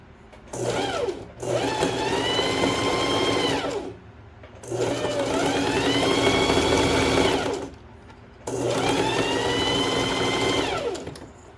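A domestic sewing machine stitches a swimsuit in three long, steady runs of fast mechanical whirring, each a few seconds long and separated by short pauses, loud and close with no talking.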